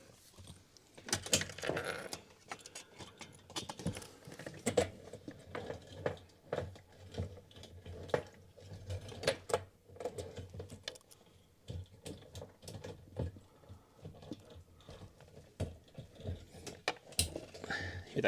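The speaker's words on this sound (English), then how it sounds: "Hear that snap? Make sure it snaps." Plastic clip on a BMW 335xi fuel pump and sender assembly snapping into place, a sharp click among scattered handling clatter and clicks throughout, close and fairly loud, with no speech.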